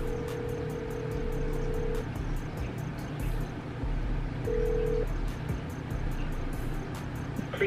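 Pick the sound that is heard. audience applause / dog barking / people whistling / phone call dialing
phone call dialing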